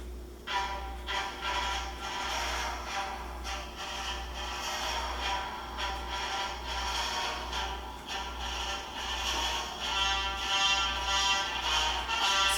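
Vader's theme played as a boot sound through a small Railmaster 8 ohm 2 watt speaker, with a tinny, buzzy tone, an audible low hum under it, and no talking.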